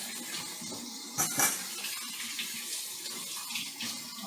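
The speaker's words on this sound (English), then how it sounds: "let me add some more water here" Water running from a kitchen tap into a small bowl during home cooking of Polish potato pancakes, a steady soft stream with a brief louder splash partway through, with no talking.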